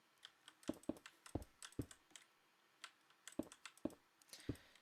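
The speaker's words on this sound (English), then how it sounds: "Sorry if you can hear my keys. The keyboard is not as quiet as it says it is." Keys clack on a computer keyboard in irregular bursts of typing, quiet, close clicks with brief pauses between groups, no voices over them.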